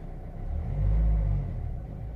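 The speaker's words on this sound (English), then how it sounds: "Now the car started." A Renault Scenic II engine idles just after starting, a low steady rumble close by that swells briefly then settles back to an even hum.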